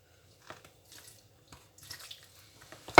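Water being poured into bread dough for pão com chouriço, heard as quiet, intermittent splashes and trickles in a near-silent kitchen, ending in a louder splash.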